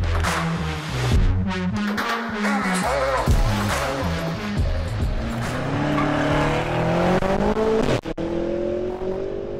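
A BMW M5 drives hard on the road, its engine revving and accelerating loudly up close with tire squeal and skidding, the engine note climbing and falling through gear changes for several seconds.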